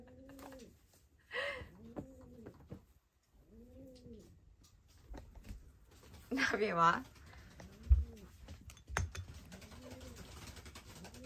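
A pet crow gives a series of arched, hoarse calls at a steady pace, close by, holding a piece of sweet potato in its beak, with a person speaking briefly partway through.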